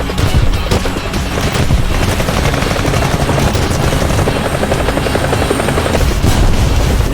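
A helicopter in War Thunder thrums loudly and steadily throughout, with dense bursts of automatic gunfire and battle noise layered over the rotor drone.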